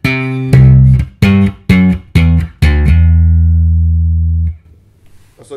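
A bass guitar plays a phrase on the third string: several short, punchy plucked notes in quick succession, then one long sustained low note ringing out before fading to near silence.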